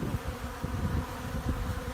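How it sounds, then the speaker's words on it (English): Honeybees crowding a syrup feeder fitted with wood floats and straw, set in a nest during a cold Canadian spring: a dense, continuous low buzz of many insects, close and steady, with no voices. "These bees are going absolutely bonkers over this."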